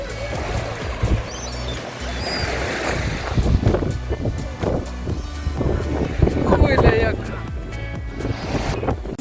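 Sea waves wash onto a stony shore in Odesa in February, with wind noise. The surf surges and breaks in uneven swells beneath voices talking nearby.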